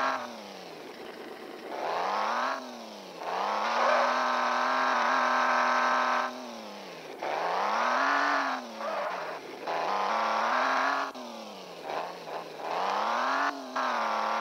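Whining race-car engines in a mobile car racing game level rise and fall in pitch with each acceleration and gear shift, close and continuous with brief dips.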